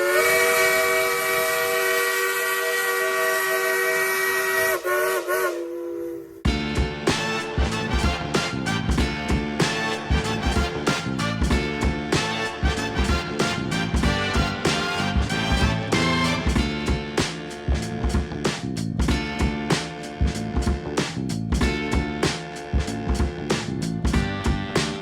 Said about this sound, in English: I got the Jensen 20G coming up to boil pretty soon